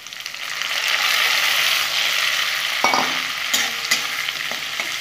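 Carrots and tomatoes with chillies frying in a pan, a steady hissing sizzle close up, broken by a few sharp knocks and scrapes of stirring.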